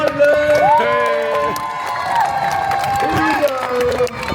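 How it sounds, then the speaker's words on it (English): A crowd at the Edinburgh Festival Fringe cheers for Scotland, a sustained wash of shouts and whoops with a melody carrying through and people talking over it. "there's a massive cheer for Scotland"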